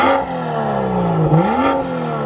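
A BMW M2 F87 exhaust in comfort mode revs twice, each burst climbing then dropping back to a low idle, close and loud with no talking.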